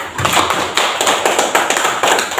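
Schoolchildren in a primary school classroom clap their hands together in a quick, irregular rhythm, loud and close, with sharp overlapping slaps.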